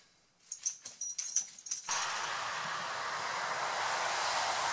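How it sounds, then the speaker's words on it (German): Hunting dogs, excited and restless just before a driven hunt, give a quick run of short whines and yelps close by, then a steady rushing noise, like wind or a passing engine, takes over. "Hunde sind aufgeregt und bereit."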